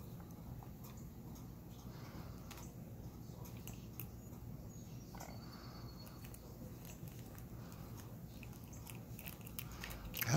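A cat gnaws and bites on a toy, giving repeated small crunching and chewing clicks close by over a low steady background, with a louder rustle at the very end.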